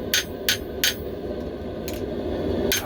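Hammer blows forging the tip of a knife: four or five sharp, solid metallic strikes spaced irregularly, close and clear over a low background hum, with no voices.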